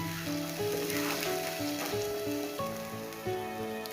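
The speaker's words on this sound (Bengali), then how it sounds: "চলুন এটা আগে একটু ভেজে নিয়ে এই মশলাটা, এর কাঁচা গন্ধটা সরে গেলে তারপর এটার মধ্যে অন্য মশলাগুলো অ্যাড করব" Spice paste for an elephant foot yam curry fries in hot oil, giving a steady, close sizzle that runs the whole time with soft music underneath.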